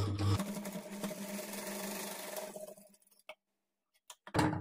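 A sewing machine stitches the folded inner edge of a child's lehenga blouse in a steady whirring run that stops after about three seconds, followed by a few isolated clicks and a thump.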